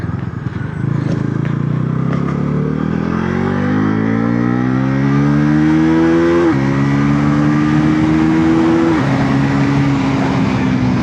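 A Bajaj Pulsar NS350Z motorcycle accelerating hard, its engine note climbing steadily then dropping sharply at two gear shifts before rising again, loud and close throughout.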